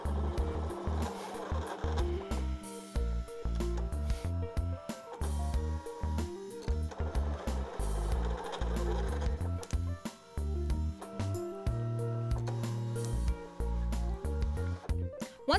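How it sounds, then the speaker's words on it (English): A Brother ScanNCut2 CM650W cutting machine moves its pen tool to draw a stitch line onto fabric, with repeated motorized whirs, clicks and carriage movements close up, without speech. "now I'm going to be able to draw my stitch line directly onto my fabric"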